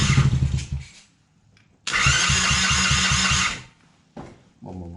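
A cheap quad bike that had stalled is cranked with the starter, its small engine catching in a rapid chugging burst, falling quiet, then sputtering again briefly, loud and close.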